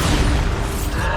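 Bombarda blasting spell in Hogwarts Legacy, a loud, dense booming explosion filling the short moment with a rumbling low-end roar that fades slightly at the end.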